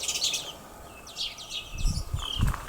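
Birds chirp and tweet in a cottage garden wilderness of ivy-covered trees, a series of quick high calls repeating near and at middle distance over a soft outdoor hush, with some low rustling toward the end.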